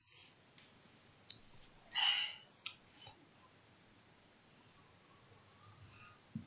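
A computer mouse gives a handful of sparse, faint clicks at irregular intervals against a quiet, near-silent background.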